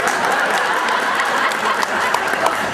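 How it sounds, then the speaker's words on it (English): A comedy juggling show's crowd bursts into loud, steady applause, a thick, even wash of many hands clapping that fills the whole moment without letting up. "so please clap quickly"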